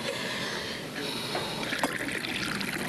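Liquid poured into a cup, heard as a brief soft trickle and gurgle inside a quiet room, with faint clinks and no talking.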